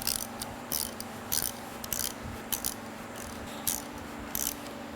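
Ratchet clicking on a nut underneath the apron of a LeBlond lathe, a quiet steady hum beneath a series of short metallic bursts spread irregularly through the five seconds.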